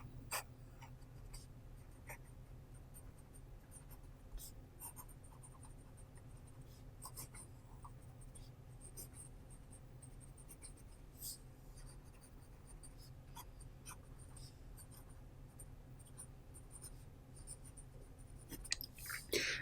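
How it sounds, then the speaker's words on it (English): A Wing Sung 698 fountain pen with a fine nib writing on paper, a soft, faint, continuous scratching with small irregular ticks as strokes start and stop, running alone for about twenty seconds. "And quick writing sample."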